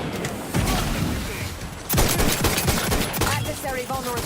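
Sci-fi weapon fire in The Outer Worlds 2, rapid bursts of gunshots in two loud volleys with a brief lull between, game effects and chatter mixed underneath.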